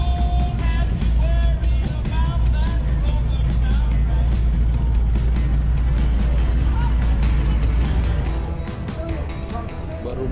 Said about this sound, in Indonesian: ada suara mesin ya. Gue tahu banget deh ini mesin gila ya gitu.